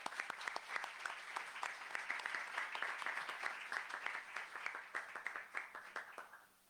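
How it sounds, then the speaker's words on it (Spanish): An audience at an authors' meeting for students and staff applauds steadily, a dense crowd of hands clapping at near-constant loudness before thinning and fading at the end, with no talking over it. "Recibámoslo con un fuerte aplauso."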